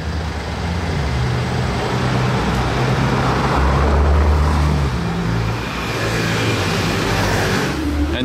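Porsche GT2 RS sports car passing on a city street at night during the Monaco Grand Prix, a deep engine rumble building to a revving peak mid-way and easing off, with traffic noise around it.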